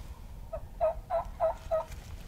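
A wild turkey gobbles from a distance in Missouri, a quick rattling burst of four or five notes over quiet outdoor background.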